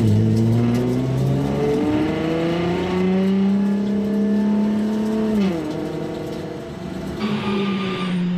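Race cars in the Nürburgring 24 Hours formation lap, recreated in Gran Turismo 5, a loud engine drone close by that rises steadily in pitch, drops sharply as the car shifts, then climbs again.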